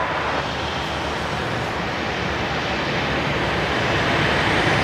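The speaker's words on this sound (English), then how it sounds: "And this is Qantas 545." Qantas 545, an airliner bound for Sydney, heard at night at Brisbane Airport as a steady, loud broadband roar of jet engines that holds constant without a break.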